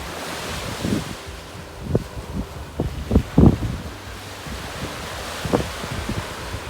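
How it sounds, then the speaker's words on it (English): Ocean waves break on a beach at Navarre near Pensacola, a soft surf wash with several louder swells rising and falling irregularly. Gusty wind buffets the microphone throughout, and no one speaks. "One of our favorite beaches here in Nooo Beach, not far from Pensacola."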